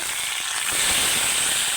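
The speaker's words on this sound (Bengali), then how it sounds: "এখন ভেজে নেব এগুলো" Mustard-coated hilsa parcels fry in a wok, giving a continuous close hissing sizzle with faint pops.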